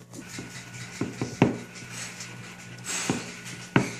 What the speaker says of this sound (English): And then we're just gonna whisk. And we're whisking.